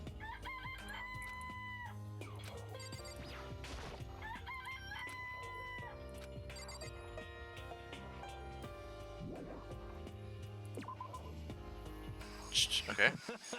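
Chickens in the Danganronpa video game cluck and crow in a long run of repeated calls over background music, with a louder burst near the end.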